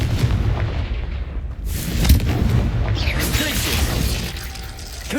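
Confringo fire blast spells going off in the Hogwarts Legacy video game: several booming, crackling bursts run back to back over a dense, loud bed of game combat noise, with a voice calling out at times.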